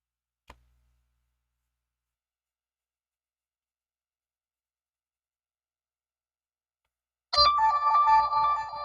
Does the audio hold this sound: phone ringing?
yes